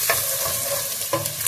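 Onion hitting a pan of browned ginger and garlic, frying for a chicken kofta curry: a steady close sizzle with two sharp bursts of frying and stirring clatter, no voices.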